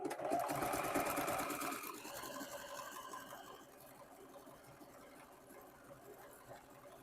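A sewing machine stitches a buttonhole as part of sewing a raincoat, running in a fast steady rattle that is loudest at first and then continues more softly with a lighter rhythm.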